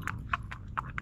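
Horse hooves clip-clop at a steady walking rhythm while the horse is ridden, five or six crisp, fairly close hoof strikes over a low background rumble.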